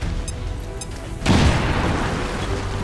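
An explosive detonating in the video game XCOM 2: a sudden loud boom after a quiet lead-in, followed by a long rumbling, crackling decay.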